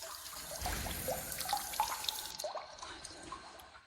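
Warm water runs and splashes steadily at a hotel spa hammam, moderately close, with uneven drips and trickles over a continuous flow.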